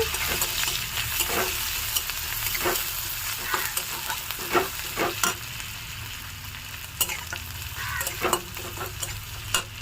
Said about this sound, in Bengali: পেঁয়াজ দিয়ে একটু নেড়ে নেব